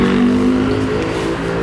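A freshly rebuilt Toyota 5L engine, its pump not yet set properly, runs in a loud, steady, close-up drone with a deep, even hum and no break.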